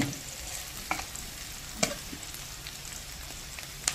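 Brinjals fry in a pan with a soft, steady sizzle under occasional scrapes and sharp taps as the pieces are stirred, quiet and close, with no voices.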